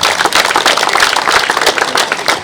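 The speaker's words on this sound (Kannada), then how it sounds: "ಸತೀಶ್ ಕುತ್ಲೂರ್ ಅವರಿಗೆ ಕೂಡ ಒಂದು ದೊಡ್ಡ ಚಪ್ಪಾಳೆ ಬಂದಿದೆ" Audience clapping for commentator Satish Kutlur at a kabaddi event, a steady dense burst of applause from many hands, fairly loud and continuous with no speech over it.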